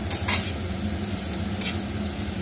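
Black pepper and dried red chillies being dry-roasted and stirred in a frying pan to make a roasted spice mix, giving soft scraping swishes in two short bursts over a low, steady background.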